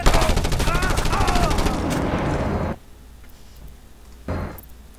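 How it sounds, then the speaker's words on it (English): Submachine gun fire in the video game Just Cause 2: a loud, dense burst of rapid shots runs for nearly three seconds, then a brief second burst after a pause, with a voice talking over part of the shooting. "See? Submachine gun?"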